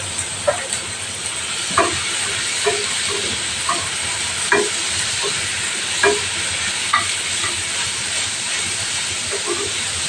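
Chicken pieces frying in a pan at home while being stirred, with a steady sizzle and hiss and repeated soft scraping clinks from the utensil every second or so.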